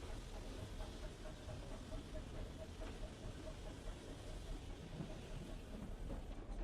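A preserved branch-line steam locomotive moves off with a train of unfitted freight trucks, giving a faint, steady low rumble of wheels and engine heard from on board.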